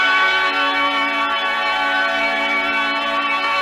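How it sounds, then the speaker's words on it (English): A guitar holding a sustained, organ-like chord with a steady, unbroken tone that rings evenly throughout. "Sometimes it sounds like brass, sometimes it sounds like an organ. This sounds a bit like an organ."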